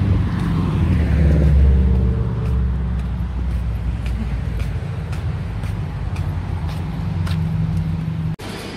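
A bus passes along a road with a loud low engine rumble that builds early, then eases into a steady drone before cutting off abruptly near the end.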